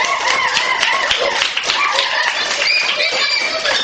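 Classroom applause: a dense patter of children's clapping continues steadily throughout, with voices mixed into the clatter.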